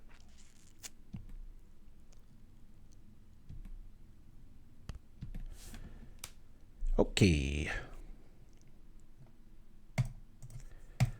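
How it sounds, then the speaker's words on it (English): Mouse or keyboard clicks while playing a Magic: The Gathering Pauper computer game, scattered sharp taps spread across the stretch with a louder burst midway, a quiet voice speaking briefly. "Sorry, I'm clicking so loud."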